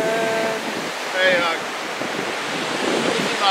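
Ocean surf washing onto a beach, a steady broadband wash with gusty wind noise on the microphone, while voices and faint whistly tones come and go over it.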